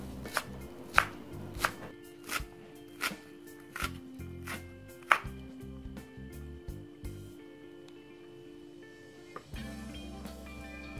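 Knife chopping spring onions on a cutting board, a run of sharp close taps in uneven bursts, some louder strokes, with a steady tonal hum behind, for a cucumber-and-egg home dish.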